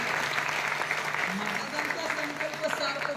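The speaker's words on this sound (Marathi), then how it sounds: "त्यांच्याकरता सगळ्यांनी एकदा टाळ्या वाजल्या" Audience applause from a crowd clapping together for about three seconds, a dense, steady patter that holds without a break, with voices mixed in underneath.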